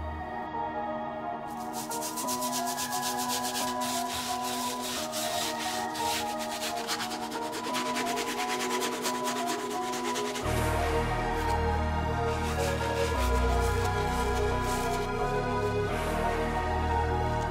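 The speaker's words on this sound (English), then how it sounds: "let's go ahead and grab the stiff brush and get the sole cleaned" A stiff brush scrubs the outsole of a white leather New Balance 550 sneaker in a steady, continuous rubbing rasp, close and loud, with the strokes growing heavier and deeper partway through.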